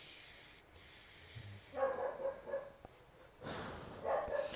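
A dog barks in short bursts at moderate distance over a low background hum, a few uneven clusters of yaps with a brief pause between them.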